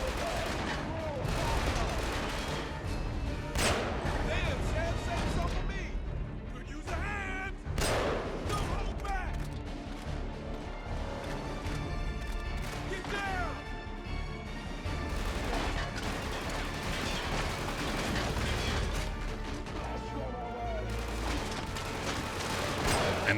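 Rifle fire from the video game Killzone 2 rattles in dense, repeated bursts and sharp single shots throughout, layered over constant loud battlefield din with booms and crashes.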